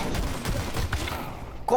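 A rapid burst of shotgun fire in Counter-Strike: Global Offensive, several quick shots fired in succession, loud and close, with a brief sharp sound at the end.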